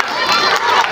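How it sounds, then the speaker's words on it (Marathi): A school annual gathering audience claps and cheers after a song performance, a loud dense roar of crowd noise with high shouts layered over it, sustained evenly throughout. "त्यासाठी जोरदार टाळ्या वाजवा."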